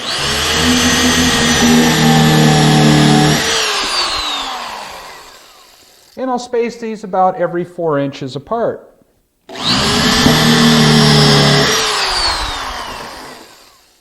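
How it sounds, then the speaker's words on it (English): A power drill whines loudly for a few seconds, then someone speaks briefly before the drill runs again at the same high, steady pitch, drilling pilot holes and countersinks into a wooden workbench frame. "So first I'll go through and drill some pilot holes along with some countersinks."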